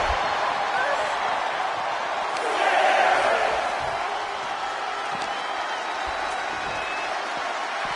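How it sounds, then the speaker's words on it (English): A wrestling arena crowd roars and cheers at a live Friday Night SmackDown event, a steady wash of voices that swells briefly, with a commentator talking over it. "Taking a moment to get pumped off of this crowd's incredible energy."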